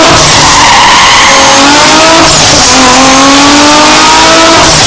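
A car pulls away revving hard with tire squeal and skidding, loud and sustained throughout with engine tones sweeping upward, no talk.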